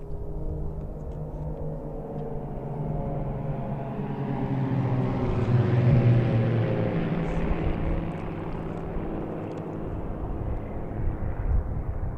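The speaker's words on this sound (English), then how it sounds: "As they fly over, you'll note he pulls up and away from the formation" A formation of military aircraft flies over an outdoor Veterans Day ceremony, a broad jet roar that builds to a loud peak midway and then slowly fades as the planes pass and pull away.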